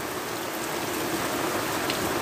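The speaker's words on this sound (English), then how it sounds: "when you get the hard rain and the" Heavy rain pours down steadily during a July thunderstorm, a dense continuous hiss of drops hitting surfaces, near and moderately loud, with no voices.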